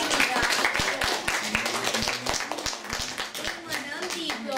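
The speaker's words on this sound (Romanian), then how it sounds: "O aplaudăm pe Kira!" A preparatory-grade school class claps for a girl named Kira at a 100-days-of-school celebration, with close, uneven individual claps from many small hands and children's voices chattering underneath.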